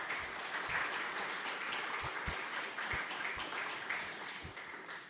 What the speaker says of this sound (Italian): hopefully everyone will applaud again after the English